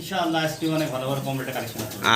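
Pigeons kept at a seller's stall coo close by in low, rolling calls, with voice-like murmuring mixed into a fairly loud, busy scene.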